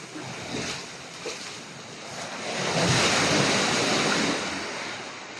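Sea waves wash steadily onto an island shore at Samal, a continuous close roar of surf that swells to a louder crest midway, with wind buffeting the microphone and no talk.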